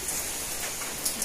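Rain falls steadily outside on a terrace, a soft, even hiss of drops at moderate distance with a couple of slightly louder spatters, no voices.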